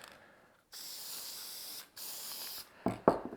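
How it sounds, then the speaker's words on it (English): Aerosol spray can hissing onto motorcycle parts during a service, one long burst then a second after a short pause, close and fairly loud, ending with a couple of clicks and rattles. "I'll use this spray on stuff I've got, doesn't matter. Let's just spray this on."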